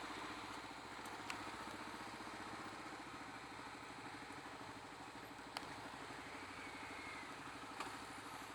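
2022 Kawasaki KLR650 motorcycle ridden slowly, a steady low engine thrum with even pulsing, constant and moderately close with no talk.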